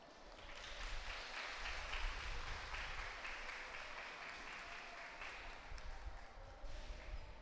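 An audience gives sustained applause at an Ashadhi Ekadashi devotional music gathering at Sri Pandurangashramam. The clapping is dense and fairly distant, holding steady for several seconds without pause.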